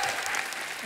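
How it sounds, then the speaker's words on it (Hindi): A studio audience at a television comedy show claps together in a quick, dense burst of applause that lasts under a second and stays at an even level. "एक बार जोरदार तालियां हो जाए गैंग्स ऑफ वसेपुर की पूरी स्टार कास्ट के लिए"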